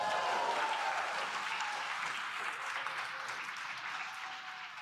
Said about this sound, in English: Did you hear them cheer?